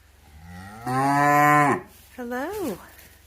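Two deep moos from cattle close by on a snowy day: a long, loud, steady one, then after a short pause a shorter bellow that rises and falls.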